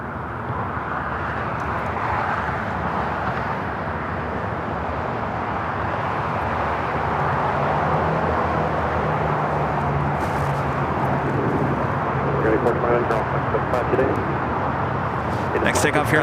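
An airliner jet at LAX on the south side, an American Airlines flight bound for Dallas Fort Worth taking off from runway 25 right, gives a steady, broad roar that holds evenly and swells slightly toward the end.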